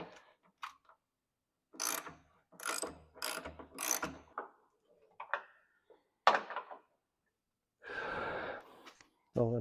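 Hand ratchet unbolting the hood of a 1935 John Deere GP tractor: several short bursts of clicking, close and crisp, separated by quiet pauses, ending in a longer stretch of ratcheting.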